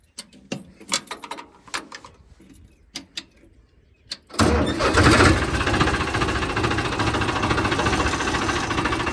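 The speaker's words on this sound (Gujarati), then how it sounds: "હાલો આપણે ટ્રેક્ટરને ચાલુ કરીને લેતા જઈએ બહાર" Quiet clicks and clunks, then a tractor engine cranks and starts, settling into a loud, steady diesel rumble that continues to the end.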